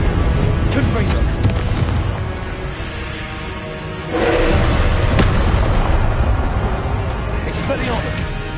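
Fiery Confringo spell blasts from the Hogwarts Legacy video game go off in a steady barrage of booming, crackling bursts, with louder blasts after the midpoint, as a voice keeps calling out spell names over the din.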